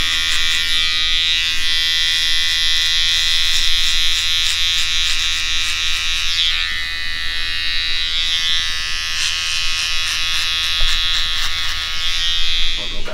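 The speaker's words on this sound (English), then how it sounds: "I'll just use the trimmer to set the skin" An electric hair trimmer buzzing steadily while cutting hair during a buzz cut, a loud close high-pitched whir with slight dips in pitch as it moves over the head.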